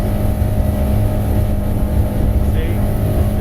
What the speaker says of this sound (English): if I want to hit that rev limiter, I can trim it up a hair.